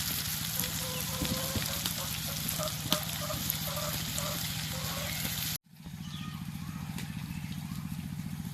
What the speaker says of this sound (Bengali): এখন এক এক করে বড়াগুলো ভেজে নেব।